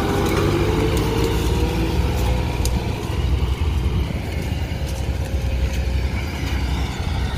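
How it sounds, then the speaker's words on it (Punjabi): A farm tractor pulls away with a loud, continuous diesel engine drone that stays close and steady throughout, with no talk over it. "ਲੈ ਚੱਲਿਆ ਆਪਣਾ ਟਰੈਕਟਰ"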